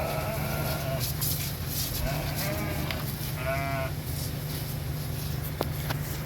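Sheep bleat a few times at moderate distance over a steady mechanical hum, with faint footsteps and handling noise around a flock being treated against lice.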